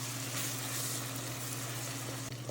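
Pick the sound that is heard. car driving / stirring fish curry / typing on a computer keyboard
stirring fish curry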